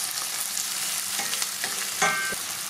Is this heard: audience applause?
no